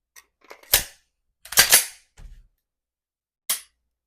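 A firearm loaded with snap caps is dry-fired, giving a few sharp, close mechanical clicks and snaps spaced irregularly, with quiet gaps between them and no speech.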